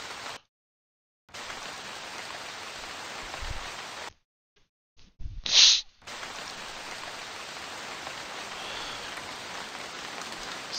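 Steady rain hisses in Tom Clancy's Ghost Recon during a daytime mission near a factory. It cuts out twice briefly, and a short sharp burst sounds before the even downpour resumes.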